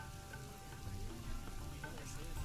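Soft, steady rain falling in the zoo-building video game Planet Zoo, a faint even hiss of drops spread across surfaces with no break or change in intensity.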